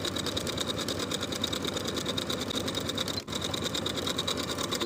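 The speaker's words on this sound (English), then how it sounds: "sew the facing to its seam allowance about 1/8 of an inch away from the original stitching line" A sewing machine stitches a shirt facing to its seam allowance, a loud, even mechanical whir with a rapid steady needle rhythm, close up and running almost without pause.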